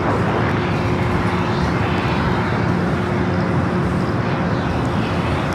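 An airliner takes off from runway 25 right at Los Angeles International Airport, a loud, unbroken jet roar that holds steady and close throughout, with a faint low tone running beneath.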